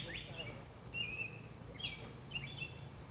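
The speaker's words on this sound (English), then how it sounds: "Birds are talkative." Several short, high bird chirps ring out outdoors at intervals over a soft background hum.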